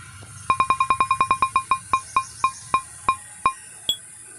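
A phone beeps through a run of identical electronic tones while a call is dialed, quick at first and then spacing out, ending in one higher tone. It is clear and close, with no one talking.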